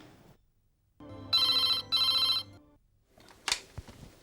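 An indoor telephone bell rings in two steady, loud bursts with a brief pause between them, followed by a short clatter as the handset seems to be lifted.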